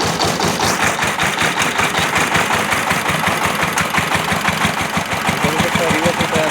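A small farm tractor's engine runs steadily and loudly in reverse gear, a continuous close mechanical chugging with a fast regular pulse that holds at an even level throughout.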